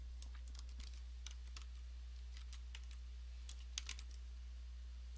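Quiet, rapid typing on a computer keyboard as a view name is entered in Revit, with soft irregular key clicks over a low steady hum, no voices.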